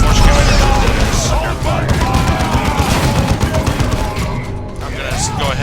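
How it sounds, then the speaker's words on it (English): Force cannon fire in the Warhammer 40k Dawn of War 2 video game: a dense, continuous barrage of loud blasts and booming gunfire, with voices talking underneath the battle noise. "I'm gonna throw a force cannon into this"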